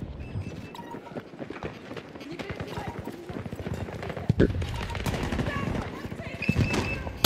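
Pistol gunshots ring out in the Battlefield 2042 video game amid a busy mix of rapid sharp cracks and clatter, with several louder distinct shots standing out later on.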